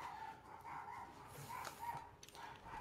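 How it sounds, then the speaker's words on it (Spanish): Small Chihuahua dogs bark and yip outdoors on a city street, a scattering of short, fairly faint high barks over steady background noise. "Me estresan los perros chihuahuas."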